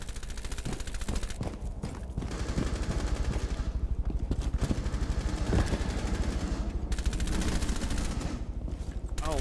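Rapid automatic gunfire in Rainbow Six Siege rattles in close, loud bursts separated by short pauses, with sharp repeated shots dominating the whole stretch.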